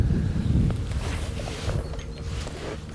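Wind gusting at a fishing lake, a loud rushing buffet across the microphone that eases slightly after the first second, steady and without talk.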